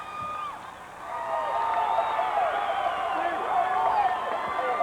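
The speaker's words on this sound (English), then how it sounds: "some of the Ogallala Indian crowd is there really getting psyched" Crowd of Ogallala fans cheering at the 1992 Nebraska boys Class B state basketball championship, a broad, moderately loud roar of voices and whoops rising and holding steady in a gym.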